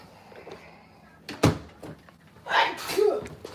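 A sharp, sudden sneeze bursts out midway, followed by a second breathy sound, set against quiet room noise.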